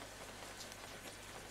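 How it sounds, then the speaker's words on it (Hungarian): Steady rain falls in the video game Unturned, a dense, even hiss of drops on surfaces that holds at the same level throughout, with no voices. "És de tényleg esik az eső."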